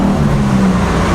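A 1972 BMW 2002 engine drones steadily from inside the moving car, a loud, even hum with a low tonal note and no voices.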